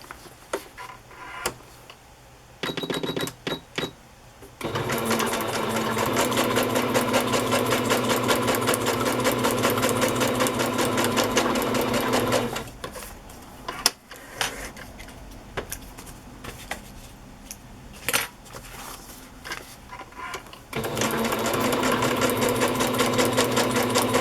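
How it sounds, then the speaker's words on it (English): A sewing machine stitches the edges of fabric envelopes in several runs: a fast, loud mechanical whirring hum that starts, stops briefly and resumes, with soft clicks and handling noise in the gaps. "now I'll just sew the edges"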